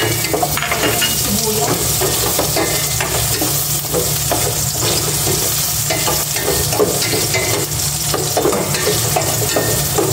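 Garlic sautés in hot cooking oil with a loud, constant sizzle, broken by rapid rhythmic scraping of a utensil against the pan.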